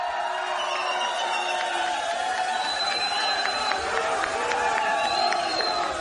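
A rowdy crowd at a live Cinco de Mayo radio show event keeps up a steady wash of chatter and cheering, with scattered whoops and shouts rising over a dense, continuous din.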